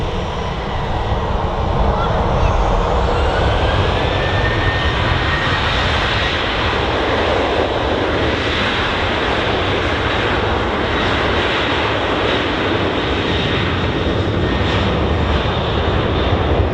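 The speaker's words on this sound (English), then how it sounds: "I think he's going to go straight onto the runway and get them engines started." Airliner jet engines running at Manchester Airport, a loud, steady roar with a rising whine that holds throughout, broadband and continuous with no pauses.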